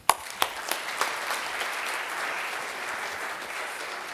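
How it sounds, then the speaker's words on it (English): Conference audience at the ISEM 2023 keynote giving a hearty round of applause for a speaker, opening with a few sharp claps that swell into sustained, even clapping from a sizeable crowd. "please join me in a hearty round of applause"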